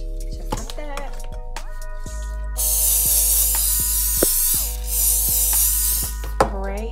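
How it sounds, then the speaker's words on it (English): Cooking spray hisses from a can onto a chicken patty in an air fryer basket, one steady burst of about three seconds with a brief pause, close and loud over light background music. "spray it with some cooking spray"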